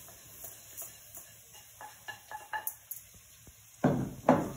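Rice is stirred into translucent onions and butter in a pan for risotto, with soft sizzling under a series of spoon scrapes and taps on the metal that grow louder toward the end.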